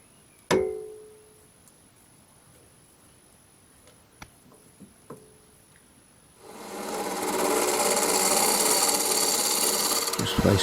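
A wood lathe faces off a wooden blank that is hot-glued to a wooden faceplate on a metal faceplate. After a few clicks and taps, a steady rough scraping of the cutting tool on wood starts and runs on loudly to the end.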